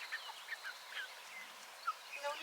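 Chickens being hand-fed at close range, giving scattered soft clucks and short high calls over faint background hiss, with no talking.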